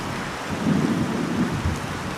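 Steady heavy monsoon rain in Assam, India pours down while a low rumble of thunder rolls through the middle, fairly loud and enveloping.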